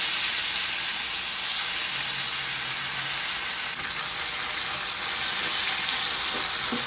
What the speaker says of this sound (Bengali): তেল গরম হয়ে গেছে, এবারে ম্যারিনেট করে রাখা চিকেনগুলোকে কিন্তু দিয়ে দিচ্ছি